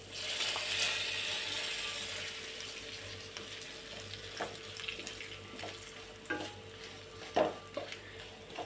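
Ground masala powder with turmeric frying lightly in a pan, a soft steady sizzle with occasional scraping clicks of a spoon stirring, close but quiet, with no talking.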